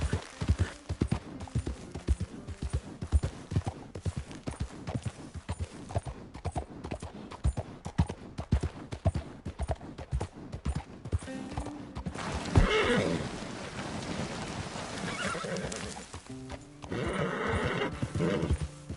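Horse in the video game Red Dead Redemption 2 galloping with steady hoof clip-clop throughout, then loud whinnies and neighs near the end, close and clear.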